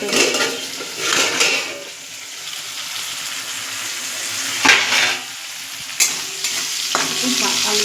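Potatoes fry in a pan of soybean and paneer with a continuous close sizzle, broken by bursts of stirring and scraping and a couple of sharp clanks of a utensil against metal.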